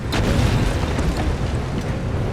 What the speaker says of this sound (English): And there was an explosion.